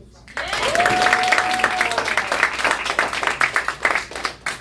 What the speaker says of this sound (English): Can you clap it up for the concrete bros?